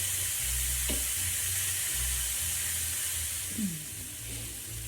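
Jerk chicken sizzles in a pan, a constant bright hiss of frying with a few soft crackles and stirring bumps, close and steady throughout with no talking.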